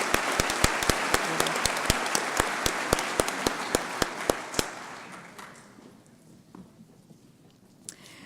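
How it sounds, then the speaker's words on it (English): Audience applause at a scholarship reception, a crowd clapping with sharp individual claps standing out, loud at first then thinning and fading away after about five seconds into quiet room tone. "Let's give these scholarship recipients a round of applause."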